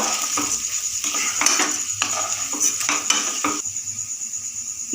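Rice is stirred and fried in a pot with clove and other spices, a spatula clinking and scraping against the metal in short bursts over a faint sizzle.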